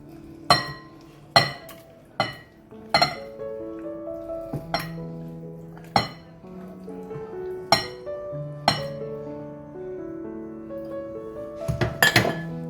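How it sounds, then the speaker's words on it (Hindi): Chicken stirred into a yogurt marinade in a bowl for white badami korma, with a dozen bright, ringing clinks of a spoon striking the bowl at irregular intervals and a brief flurry of clatter near the end. "इसको अच्छी तरह आपने मिक्स कर देना चिकन को इसके साथ"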